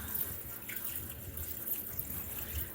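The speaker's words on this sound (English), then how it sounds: "I actually have some canned ham broth that I did. So we're going to just pour that in there" Canned ham broth pours into a crockpot for a bean and meat soup, a faint steady liquid splash and gurgle close by, quiet and continuous without any speech.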